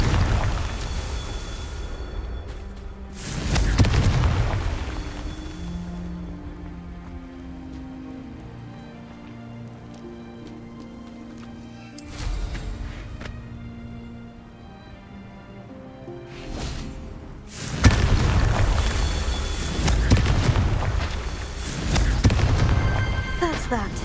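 Confringo blasting spell going off in Hogwarts Legacy, heard as loud bursting booms around 4 seconds and again near 18 seconds, with crackling debris and a game music bed between the blasts.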